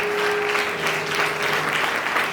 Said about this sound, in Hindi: ताली बजा के महिमा दीजिए